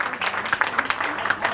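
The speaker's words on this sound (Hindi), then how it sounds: "तालियां हो जाए, तालियां।" Audience applause at a sangeet ceremony, a steady patter of many hands clapping at moderate distance, continuous and even throughout, with faint voices under it.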